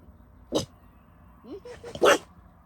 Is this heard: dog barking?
yes